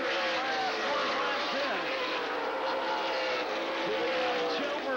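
NASCAR stock cars racing at La Crosse Speedway in Wisconsin during the Re/Max 200 in October 2001, engines droning continuously through the turns, with a commentator talking over the steady roar.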